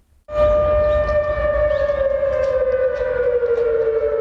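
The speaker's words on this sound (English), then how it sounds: "we awoke to the sound of this air raid siren, which is extremely rare" A loud air raid siren in Seoul starts abruptly and wails steadily, its tone sliding slowly downward as it rings out over a long, unbroken stretch.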